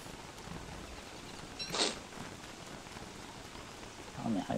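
Rain falls steadily in the video game Don't Starve Together, a faint, even hiss of drops. A brief brighter burst of noise breaks through partway, and a soft sound comes near the end.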